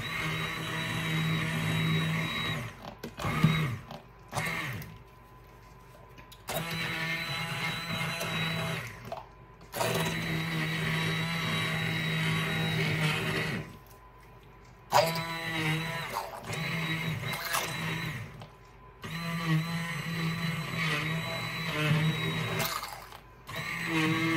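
An immersion blender purees a pot of slow-cooked apple butter, a loud, steady motor whine that cuts out and restarts several times across the stretch, with brief quiet gaps between bursts.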